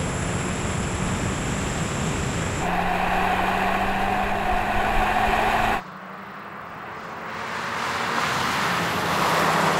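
A VW Golf GTI Mark 5 accelerating hard in a drag race, a loud sustained engine drone rising in pitch, with a gear change midway and the roar continuing, no talking.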